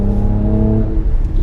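A Mercedes C43 AMG estate's twin-turbo V6 booms through its factory sports exhaust, a loud, deep, grunty note that holds steady and then eases off, close by with no talk.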